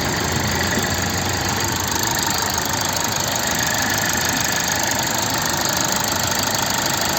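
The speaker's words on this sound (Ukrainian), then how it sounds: "Ось робота двигуна." A 2012 Toyota Avensis 2.0 D4D diesel engine idles steadily with a rough, knocking clatter, loud and close, continuous without change.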